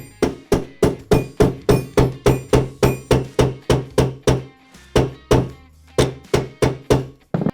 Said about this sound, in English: Then you start hammering.